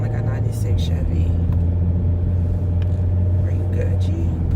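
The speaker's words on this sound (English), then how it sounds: "Why do my car sound like a 96 Chevy?" A car engine idles on a cold early morning, producing a low, steady rumble close to the microphone that holds constant throughout, with soft, murmured voice sounds over it.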